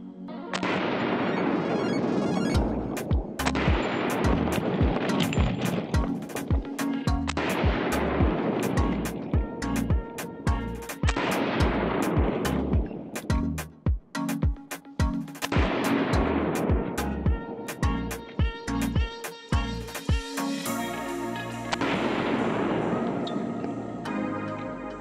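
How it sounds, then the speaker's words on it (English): Rifle firing M855 rounds into a Battle Steel Level III+ steel armor plate set at an angle, a rapid string of loud, sharp close-range shots with ringing impacts continuing steadily for the whole stretch. "as it went up on an angle and I started shooting into it like this"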